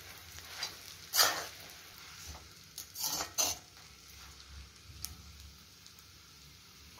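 Chopped chapathi is stirred and tossed on an iron pan for kothu chapathi. A utensil scrapes and clanks against the metal in a few sharp, separate strokes over a soft background hiss.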